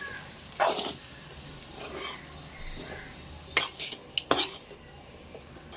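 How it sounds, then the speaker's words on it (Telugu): A utensil scrapes and clinks against a pan while tempered rice is stirred, a few sharp metallic knocks and softer scraping strokes spaced irregularly, close and fairly quiet. "ఒకసారి అన్నం అంతా కలిపి పెట్టి మూత వేసి పెట్టుకుంటే సరిపోతుంది"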